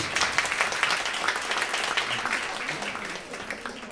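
An audience claps steadily at a harp jazz concert, a dense even patter of many hands that tapers off toward the end.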